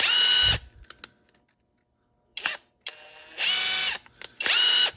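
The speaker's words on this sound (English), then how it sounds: "I just take a drill" A power drill whirs in short bursts, starting and stopping several times with brief pauses and clicks between runs, close and loud, working on transfer nuts of a Yamaha Viper 700.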